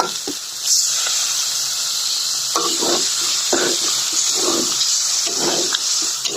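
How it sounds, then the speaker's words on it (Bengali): A loud, steady hiss of water hitting a hot pan of chicken and new potatoes, sizzling and bubbling continuously with soft clinks and stirring sounds underneath. "এখন আমরা ঝোলের যে পানিটা, সে পানিটা দিয়ে দেবো।"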